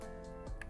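A single short, crisp trigger reset click from a 9mm AR pistol, close and quiet against a faint hum, with no talking over it.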